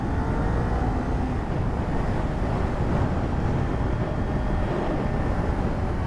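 A Kawasaki Ninja 400 motorcycle engine hums steadily while riding, a loud continuous drone blended with rushing wind noise throughout.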